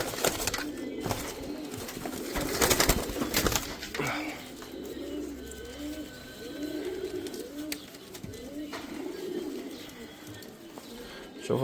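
Pigeons cooing close by in a loft, repeated soft throaty coos in a loose rhythm, with occasional rustling and wing flaps.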